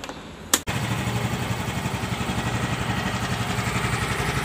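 Yamaha Mio Gravis scooter with a fault that makes it stall, a short starter whir and sharp catch, then the engine settling into a steady, close, pulsing idle.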